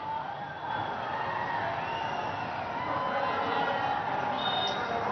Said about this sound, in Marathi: प्रचंड मोठा जल्लोष आहे।